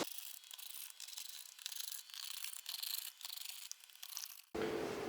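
A Torx 25 screwdriver loosens eight screws on the air filter box of an Audi Q3 2.0 TDI, giving close, continuous gritty scraping and rubbing until an abrupt cut near the end.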